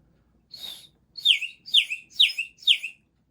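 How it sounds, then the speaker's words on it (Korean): A water-filled bird whistle toy chirps five times in quick warbling bursts, close and clear, each call a high trill with a falling tail. "물 높이에 따라서 새소리가 바뀌거든요"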